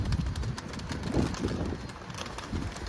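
Pigeons in a coop coo softly in low, rolling bursts that rise and fall, close to the microphone, with light wind noise and no talking.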